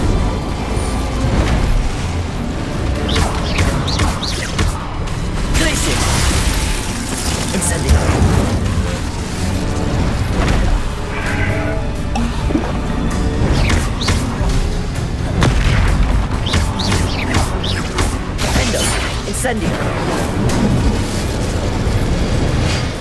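A fire spell is cast in Hogwarts Legacy, rendered as loud, dense game effects with booming, explosive bursts and rumbling layered over a continuous busy soundtrack, with no speech in between.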